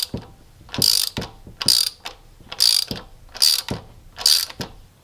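A TSP camshaft torquer tool being tightened down onto engine valve springs, giving five bursts of rapid ratcheting clicks about a second apart, close and fairly loud with short pauses between strokes.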